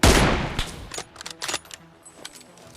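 Gunfire in the PUBG Mobile game: a sharp loud shot up front followed by a scatter of quieter shots and clicks over a few seconds.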